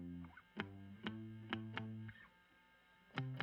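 A muted electric guitar riff with sharp plucked attacks and sustained low chugs, repeating in a quick, steady rhythm, fairly quiet.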